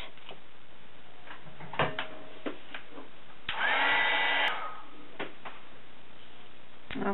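A heat tool blasts warm air over embossing powder for about two seconds, a steady broad whoosh rising midway through an otherwise quiet stretch marked by a few faint taps and clicks.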